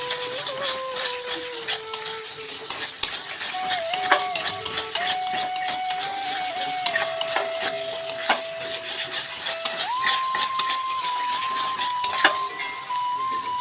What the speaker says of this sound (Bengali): এটা কষানো হোক আরেকটু চলো পুরো মশলা একদম কষে গেছে ভালো মতো